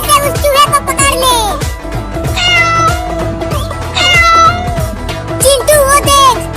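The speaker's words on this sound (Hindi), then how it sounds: "वो बिल्ली उस चूहे को खाने के लिए पकड़ रही है" A cartoon cat meows in a series of loud, close, drawn-out cries while stalking a mouse, the calls rising and falling in pitch over a busy soundtrack.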